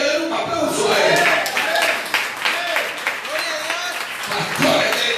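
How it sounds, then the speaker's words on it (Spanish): A church congregation claps in sustained, fairly loud applause for about five seconds, with voices calling out over the clapping. "Den un aplauso a Él."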